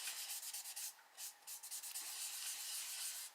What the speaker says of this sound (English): You'll probably have to reblend if you use an eraser, which is what I'm going to do. I'm just going to rub around a bit.